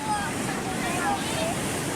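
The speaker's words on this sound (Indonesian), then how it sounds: "Arus sungai ini kan deras sekali" Strong floodwater current rushing in a river that swept a floating mosque out to Pacitan Bay, a loud, continuous broadband roar with wind buffeting the microphone.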